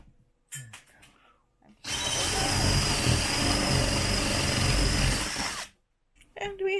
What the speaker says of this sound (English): I can't drill any further because this disc is just spinning in there.